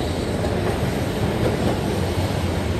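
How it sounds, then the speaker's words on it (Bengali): A single-car tram passes on a Milan street with a constant rail rumble and a close, steady roar, with no clear peak or break. "এক বগির ট্রেনের মতো এক বগি, সেটাকে বলে ট্রাম। ট্রাম যাচ্ছে"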